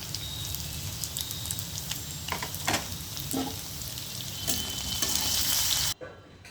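Potatoes frying in hot oil with a little salt and turmeric, a loud, dense crackling sizzle heard up close, with occasional spoon taps, cutting off abruptly near the end.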